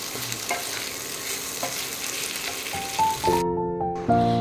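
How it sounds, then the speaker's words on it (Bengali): Flattened rice mixed with softened vegetables and cumin in a pan, sizzling steadily while a spatula scrapes and stirs in a loose rhythm, ending with a few sharp metallic taps. "সবজিগুলোর সাথে চিড়েগুলো ভালো করে মিশিয়ে 4 থেকে 5 মিনিট রান্না করে নেব।"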